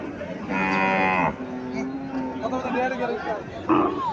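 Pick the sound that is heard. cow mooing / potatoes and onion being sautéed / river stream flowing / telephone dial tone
cow mooing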